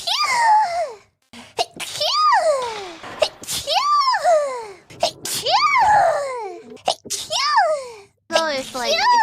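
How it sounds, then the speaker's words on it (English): Fuwawa lets out a rapid series of sneezes, about half a dozen high, squeaky bursts in quick succession with brief pauses, close and loud, sounding almost like a small child. "Full sneeze on stream."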